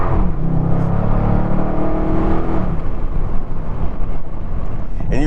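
A Dodge Charger Scat Pack pulls away in first gear, its engine note rising in pitch over about two and a half seconds before shifting to a rougher, lower rumble with wind noise, loud and close from inside the car.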